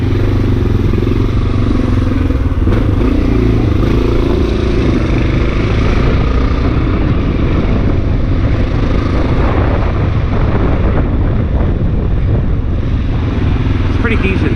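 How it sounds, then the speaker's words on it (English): A Honda XR650L motorcycle with its silencer cut in half runs steadily for the whole stretch, a loud, continuous engine rumble with some clatter and no clear pauses. "This bike has the silencer cut in half just to give it a little more oomph"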